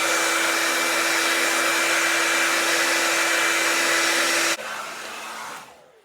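A hair dryer blows steadily at close range to dry yellow acrylic paint on a canvas, a loud constant whir with a faint tonal hum that drops to a lower setting near the end before switching off.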